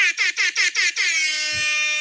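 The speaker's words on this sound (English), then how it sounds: "I might as well just get the air horn out" Air horn fired in a rapid series of four short blasts followed by one longer sustained honk, loud and close.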